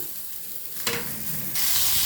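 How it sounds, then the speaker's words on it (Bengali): Ridge gourd frying in a pan, a soft sizzle jumping to a louder hiss as it is stirred, then settling into a steady, bright crackle. "দেখুন বন্ধুরা, ঝিঙেটাও কিন্তু আমার ভাজা হয়ে গেছে।"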